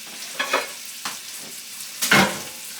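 Roast beef sears in a hot pan, a few short sizzling bursts and stirring scrapes rising and fading, with one louder hiss near the end, close and with no voices.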